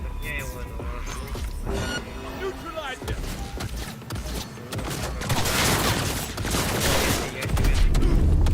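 Bursts of gunfire aimed at the player in Cyberpunk 2077, sharp cracks repeating through the clip and growing denser and louder toward the end, with someone talking over the shooting.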